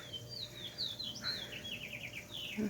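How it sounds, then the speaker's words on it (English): Small birds chirp and tweet in a backyard tree in quick, bright, repeated calls at moderate distance over a steady low outdoor hum. "Birds in the tree."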